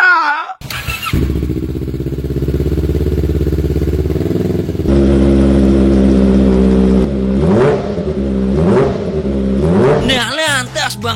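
A Kawasaki ER6 sport motorcycle revs loudly, its steady engine drone rising and falling through several throttle blips over about eleven seconds, with people talking over it.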